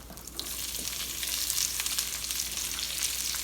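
Half a large onion frying in a pan for beef and noodles, a steady moderate sizzle with a low constant hum beneath, no talk.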